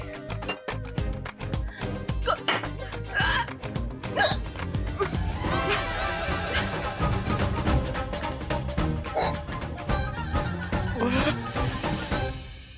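A woman hiccups again and again in a hot indoor scene from a Hindi TV drama. The hiccups come as sharp, close jolts over a dense, busy background that lasts the whole time.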